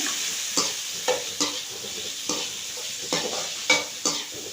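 Liver stir-fried in oil in a pan: a steady sizzle broken by about eight distinct scraping, clacking strokes of a spatula turning the pieces, close and fairly loud.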